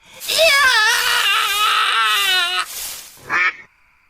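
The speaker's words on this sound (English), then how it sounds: "just look at the teeth on that duck" A duck gives a long, wavering, loud quack that sounds almost like crying, then a short second call follows after a brief pause.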